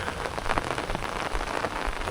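Steady rain falls on a village in a dense, even hiss of drops pattering on surfaces, close and continuous with no voices.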